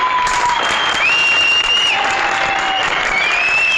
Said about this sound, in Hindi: इस मर्द के लिए बजाओ एक बार जोरदार ताली